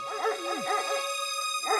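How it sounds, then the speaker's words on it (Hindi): A cartoon dog from Motu Patlu barks in a quick run of yappy, tonal woofs, pauses briefly, then gives one more bark, close and clear with no talking. "अरे ये डॉगी तो सोने ही नहीं देता, जब देखो भौंकता ही रहता है।"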